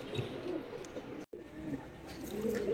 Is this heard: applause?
no